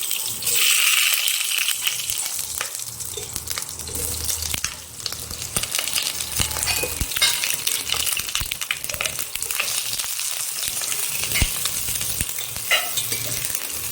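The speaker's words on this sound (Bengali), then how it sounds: "পটলগুলো ভেজে নেওয়া হচ্ছে" Slices of pointed gourd fry in hot oil, a loud, dense, continuous sizzle with crackling pops and occasional stirring clinks throughout, close up and without talk.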